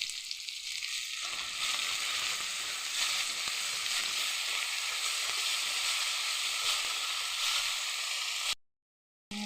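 Vegetables with ginger, garlic, salt and turmeric fry in a pan, giving a steady, close sizzle and hiss that goes on without a break, then cuts out briefly near the end.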